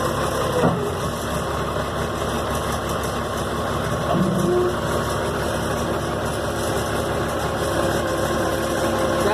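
An Allis Chalmers wheel loader's diesel engine runs at a steady idle, close and continuous with an even rumble and no voices.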